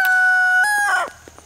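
A rooster crows close by, one long strained call that trails off, followed by a couple of soft clucks.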